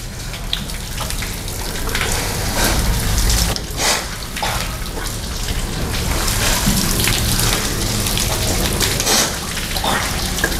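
Running water splashes steadily while a person rinses mouth and nose during ablution, a continuous close spray with brief louder gushes and no talk over it.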